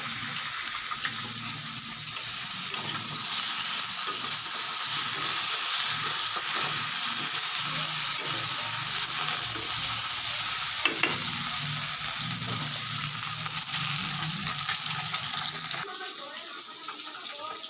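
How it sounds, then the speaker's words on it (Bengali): Pieces of fish fry hard in a pan, a loud continuous sizzle with faint stirring, easing slightly near the end. "মাছগুলো ভাজা হচ্ছে দেখো একদম লাল লাল করে ভেজে নিচ্ছি"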